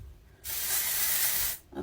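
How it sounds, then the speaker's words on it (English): A dry texturizing hair spray sprayed onto styled curls in one steady hiss lasting about a second, close and fairly loud. "my dry texturizing spray and hold it up, and it gives me that volume"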